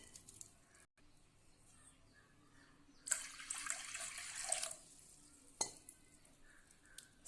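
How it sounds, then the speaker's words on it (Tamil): Water pours steadily into a pressure cooker for about a second and a half, a clear splashing stream between quiet kitchen clinks. "1/2 கப் தண்ணியை இதில் சேர்த்துடலாம்."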